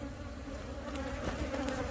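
A honeybee colony in a hive box, bees building comb beyond the divider board, hums in a steady dense drone, close and continuous, with a few louder individual buzzes passing near.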